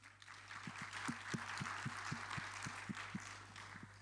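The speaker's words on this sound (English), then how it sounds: "I think he deserves another clap" An audience at a high-level farming conference applauding, soft distant clapping with a steady hum and regular thumping pulses underneath.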